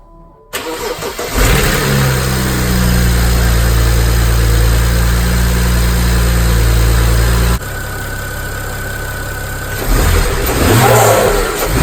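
A BMW N54 engine fitted with a Vader Solutions blow-off valve adapter cranks and fires, revs briefly, then settles into a loud, steady idle close by, with a slight rise in engine noise near the end.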